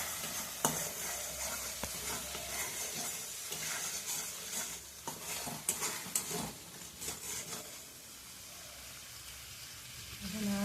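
Turmeric is stirred into masala frying in oil for koi fish curry, making a soft steady sizzle with scattered scraping and clinking stir strokes, quiet and close, fading a little toward the end, with no speech.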